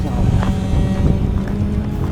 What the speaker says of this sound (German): Okay, es ist sehr windig.